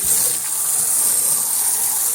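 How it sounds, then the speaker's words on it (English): A garden hose sprays water through a Jandy pool cartridge filter, rinsing dirt out in a steady, close, hissing gush with no pauses. "To clean out the inside of the filter, you simply just rinse it with a hose."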